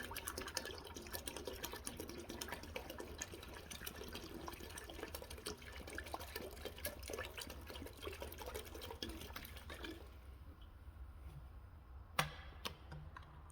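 Lemon juice pours into a pot for boiling the carburetor of a 1946 Farmall H tractor, a faint continuous liquid trickle that stops after about ten seconds, followed by a sharp clink.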